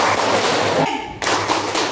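A class of children claps together in an energetic rhythmic chant clap, loud and close, with a brief pause in the middle before the beat resumes.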